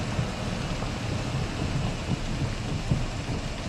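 Steady rain falls in the video game Project Zomboid, an even, continuous hiss of drops with soft low rumbling underneath.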